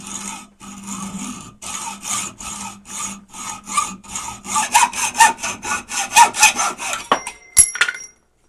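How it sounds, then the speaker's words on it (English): A Gedore 407 cast aluminum hacksaw cuts through a small steel rod in rhythmic back-and-forth strokes, the rasping sawing loud and close, quickening toward the end before a few metallic clinks as the cut finishes. "To test out the cutting performance, I first used a small steel rod and had no issues starting it or getting through it."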